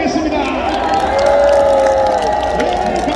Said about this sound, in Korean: 경찰관님들에 대하여 박수 한번 하겠습니다